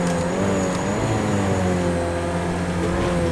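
Race car in Project CARS 2 from a road car test drive, loud continuous engine drone with shifting pitch as revs fall through a downshift, steady and close.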